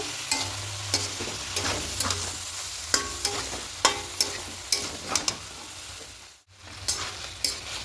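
Potato and cauliflower roast sizzles in a hot pan while a spoon stirs it, sharp scraping clacks arriving every half-second or so over a continuous frying hiss, with one brief pause near the end.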